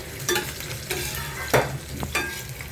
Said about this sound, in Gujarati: 2 મિનિટ આને તળવા દેવાનું છે